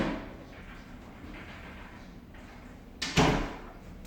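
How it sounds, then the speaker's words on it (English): A door shuts inside an office building, one sharp slam near the end standing out against a quiet, hollow indoor background. "Everybody's shutting their doors."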